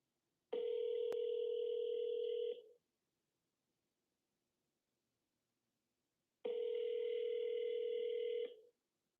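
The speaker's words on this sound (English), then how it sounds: "Oh, it's ringing." Telephone ringback tone on an outgoing call: two long, loud, steady electronic rings about six seconds apart, with silence between them and no voices.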